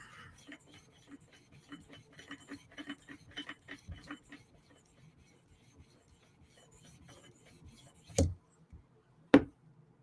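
A Lynch titanium Shaman knife with an M4 steel blade is drawn across a sharpening stone to fix its tip, making a run of short, close rasping strokes in steady rhythm, then two sharp knocks near the end.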